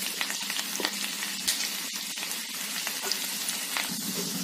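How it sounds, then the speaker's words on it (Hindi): Thin garlic slices fry in a pan for a homemade pea kadhi, giving a steady, fairly quiet sizzle with small crackles and pops, heard alone without voices. "और हम इसको फ्राई होने देते हैं।"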